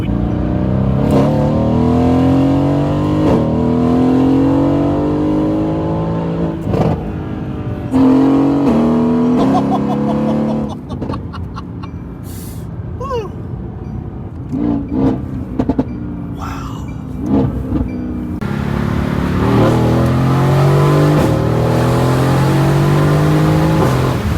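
A Mercedes-AMG GT being driven hard, its engine revving up through the gears in loud, rising sweeps with a brief easing off midway before pulling strongly again, heard close from inside.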